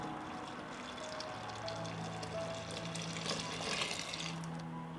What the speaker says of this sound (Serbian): dodajem 2 litre vode u ovaj sok